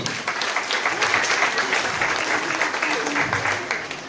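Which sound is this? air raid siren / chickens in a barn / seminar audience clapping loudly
seminar audience clapping loudly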